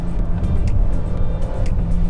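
Volvo XC60 engine revved in dynamic mode, a loud, steady, low mechanical drone with rising and falling revs, heard close from inside the car and without talk.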